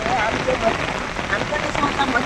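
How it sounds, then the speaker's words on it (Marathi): Heavy monsoon rain pours down in the Konkan region, a dense, steady wash of drops close by with no break across the whole stretch. "कालपर्यंत पाऊस नव्हतो अजिबात, आज पाऊस पडलो किती येतो बघ दुपारी."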